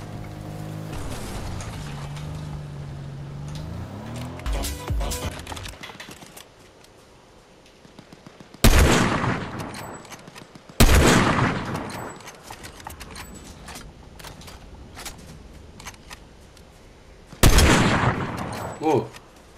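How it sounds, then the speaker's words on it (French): Gunfire in Fortnite comes as several sharp, abrupt bursts spaced seconds apart, mixed with mechanical clicks and rattling game sounds in between. "Ça tire là-bas, on va aller voir ça tout de suite."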